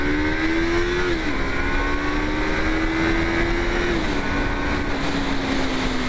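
A Yamaha MT-03 motorcycle being ridden, its engine droning steadily and loudly with wind noise, the pitch holding then shifting down slightly twice as the rider changes speed, no talking.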